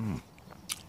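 Teeth bite into a crisp Topaz apple: one short, close snap of the flesh breaking, followed by a faint crunch and a small wet click.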